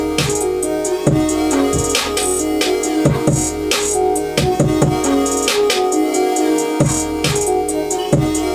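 A hip hop trap beat built in music software, with gliding synth slides over steady drums and punchy low hits, playing loud and continuous with no talking.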